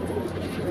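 Rampuri pigeons cooing softly, a low murmuring coo heard briefly and fairly faint amid background noise.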